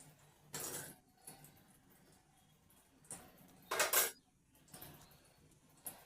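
Fried potatoes are scooped out of a pan, with a few separate metal scrapes and clinks of utensils against the pan, quiet, with gaps between them.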